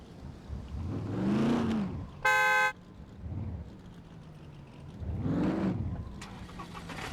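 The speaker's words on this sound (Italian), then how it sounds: "Sentite la macchina?" A car engine in the video game SCUM revs up and fades twice, each swell rising and falling, with a brief horn-like toot between them, loud and nearby.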